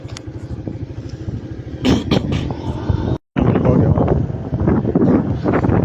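A motorbike rides along a muddy street in Greenville, Liberia, its engine chugging close up with wind buffeting the microphone, rising louder partway through after a brief dropout.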